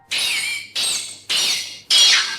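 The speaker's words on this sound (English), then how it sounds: "take a listen at what the Showa-era larva of Mothra sounds like" Showa-era Mothra larva from the Godzilla monster films: four loud, shrill squeaking whistles, each a sustained burst with a short gap between them, close and alone.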